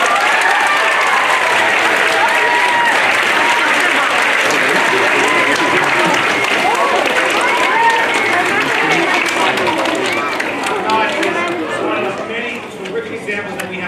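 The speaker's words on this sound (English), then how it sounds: "A big applause, please, for Ahmad Abu." A school assembly audience for a Grade 3 elementary class claps in loud, sustained applause with crowd murmur mixed in, tapering slightly toward the end.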